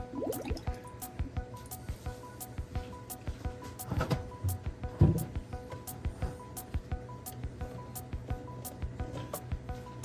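Water filling an FX4 aquarium canister filter after its valves are opened, with soft drips, gurgles and squishy trickling, close and quiet, broken by a few brief clicks and knocks.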